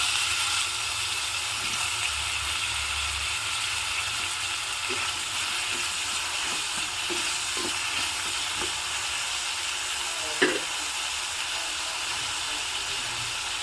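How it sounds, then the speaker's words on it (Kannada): Chopped tomatoes, two medium-sized ones, frying with onions in a pan give a steady, even sizzle and hiss, with a few faint clicks and one brief knock near the end. "ಮೀಡಿಯಂ ಸೈಜಿನ ಎರಡು ಟೊಮೊಟೊವನ್ನು ಕಟ್ ಮಾಡಿ ಹಾಕ್ತಾ ಇದ್ದೀನಿ"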